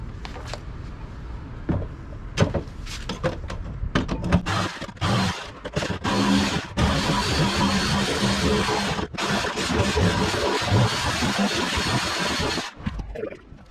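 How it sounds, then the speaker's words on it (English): A Sawzall reciprocating saw fitted with a metal blade cuts steadily, its loud buzzing running almost continuously with brief stops and restarts. "Just gonna be using your trusty old Sawzall."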